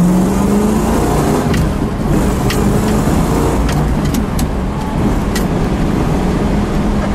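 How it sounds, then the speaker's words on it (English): A red 1963 Buick Wildcat two-door with a 401 engine and four-speed accelerates, a steady loud engine roar with rising tone over road and wind noise, heard from close by throughout. "let's give him a little acceleration in the Wildcat"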